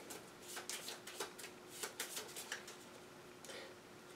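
Virus cards for the Viral board game are shuffled by hand in quiet, close-up bursts of papery riffling and soft slaps, repeated several times.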